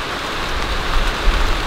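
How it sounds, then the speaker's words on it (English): Heavy rain pours down steadily outdoors in Australia, a dense, loud, continuous hiss of drops on surfaces with low rumbling underneath and no voices. "Here comes the rain."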